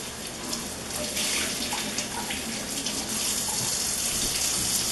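Tap water runs steadily over peppers being rinsed, a continuous close splashing rush that grows slightly fuller partway through, with no voices.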